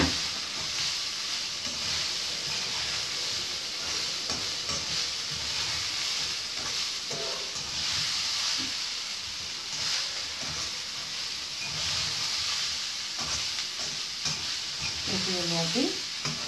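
Tempering ingredients for a cowpea curry fry in a pan with a steady close sizzle and hiss. Stirring strokes scrape through it now and then, and a voice speaks intermittently over the cooking.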